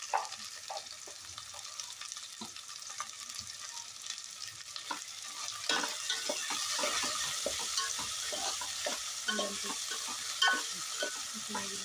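Mixed vegetables for a vegetable biryani fry and sizzle in a pan, a steady soft hiss punctuated by frequent scraping stirs and light clinks, with no voices.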